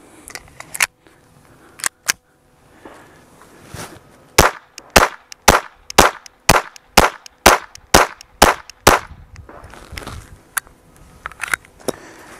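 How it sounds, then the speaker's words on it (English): Ruger 22/45 Lite pistol firing .22 LR rounds at a self-healing target: a steady run of about ten sharp, loud shots, roughly two per second, with a few scattered shots before and after. "we have the Ruger 2245 Light. We're going to run a few magazines through this"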